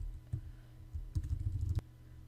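Quiet typing on a computer keyboard, a few scattered soft key clicks followed by a short burst of quicker keystrokes over faint room noise.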